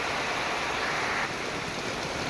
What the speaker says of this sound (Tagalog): Nakikita nyo naman sa aking talagang malakas ang ulan ngayon ng araw na to.